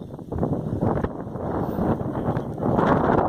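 A strong, ice-cold wind buffets the microphone in continuous loud rushing gusts that rise toward the end. It blows outdoors near a cable, and no one speaks.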